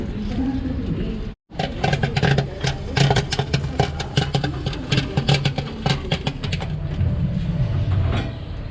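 A rumbling train in motion heard from inside a third-class carriage in Sri Lanka, steady mechanical drone with rattling, rhythmic clatter and a brief dropout, voices faint beneath.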